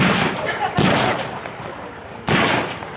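Artillery fire booms out in two heavy, loud blasts about a second and a half apart, each decaying into a long rumbling tail.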